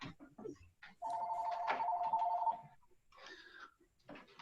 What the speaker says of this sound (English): I got a phone ringing